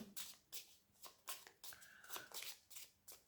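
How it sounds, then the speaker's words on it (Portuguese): A Harmony Tarot deck, major arcana only, is shuffled by hand close up. Soft, papery riffles repeat in a fairly regular rhythm of about two a second, and there is no talk. "Vou baralhar arcanos maiores do tarot, do The Harmony Tarot Deck."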